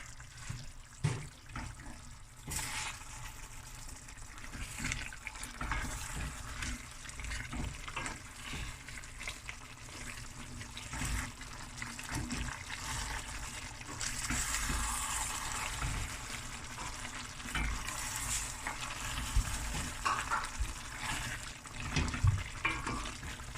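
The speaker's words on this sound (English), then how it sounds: "I'm going to add 500 ml of water" Water is poured into a pot while cooking Cape Malay chicken ahkni, a steady splashing and trickling that runs nearby for about twenty seconds, with faint stirring and sizzling underneath.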